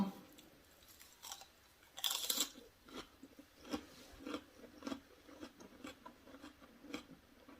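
Close, quiet chewing as someone eats, with a run of crunchy bites and soft mouth sounds recurring in irregular bursts about every half second, one louder crunch near the start.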